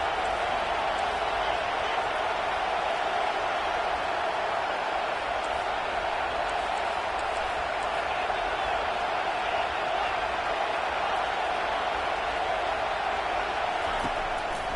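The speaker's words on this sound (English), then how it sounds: "Decibels rising as the crowd gets behind this defense on third down." A steady, dense roar of a stadium crowd in a college football video game holds at one level throughout, a broad wash of noise with no breaks and no distinct voices.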